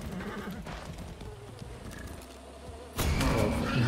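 Horse in Far Cry 6 gameplay, neighing and whinnying over clip-clopping hooves, close and fairly loud, with a sudden louder rush of movement near the end.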